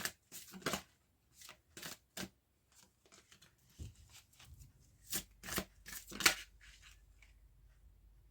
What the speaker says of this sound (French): On va continuer à brasser un petit peu.